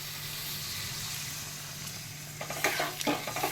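Water poured into a pan of well-fried potatoes for a vegetarian chhana curry bursts into sharp sizzling and hissing after a low, steady background hum, loud and close for the final second.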